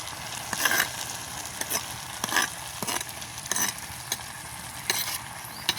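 A cooking pot in a village kitchen is stirred over a fire, with repeated short scraping, rasping strokes at an uneven rhythm over a steady low background hiss. Nobody speaks.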